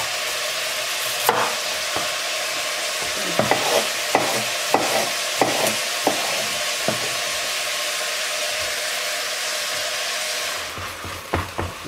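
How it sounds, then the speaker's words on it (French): Green and red bell peppers sauté in a hot pan, a steady loud sizzle close by, marked by repeated clacks and scrapes from stirring at irregular intervals, with no voices. "On fait revenir tout ça pendant à peu près 5 minutes."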